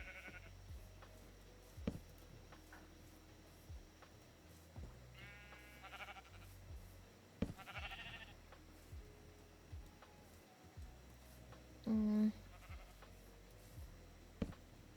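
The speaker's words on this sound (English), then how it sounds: "I hear a lot of sheep, but I don't see any." Sheep in the video game Minecraft bleat repeatedly at scattered intervals, some near and some distant, over a quiet game backdrop with occasional soft clicks and footsteps.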